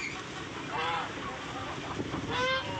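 Geese honk in short, nasal bursts at close range, repeating a few times over a noisy village farmyard background with chickens.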